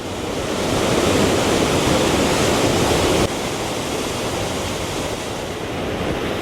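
Waterfall water rushes in a loud, unbroken roar, dense and steady, with no voices over it, near a suspension bridge at Ezhattumugham, Kerala.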